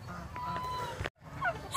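Pet turkeys give a few short, nasal honking calls at moderate distance over quiet farmyard background, broken by a brief silent gap before another call rises near the end.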